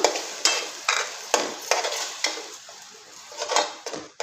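Tomato puree frying in oil in a pan for palak chicken, heard as a close sizzle broken by repeated sharp scrapes and clinks of a spoon against the pan at a steady stirring rhythm.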